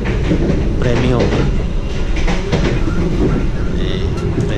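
Sriwijaya passenger train from Bandar Lampung to Palembang running steadily, a loud continuous rumble with faint rhythmic wheel clatter, heard from inside a premium-class carriage throughout.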